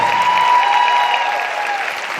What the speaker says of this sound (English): can we have another round of applause for her